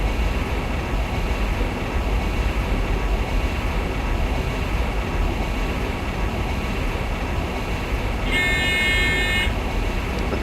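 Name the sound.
ICE 2 train braking in Train Simulator 2017 video game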